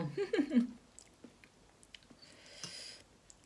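Close chewing of crisp, crunchy fresh vegetables eaten with khanom jeen rice noodles in a chicken-foot curry, a few wet crunchy bites at the start, then softer quiet mouth clicks and squishes with no talking.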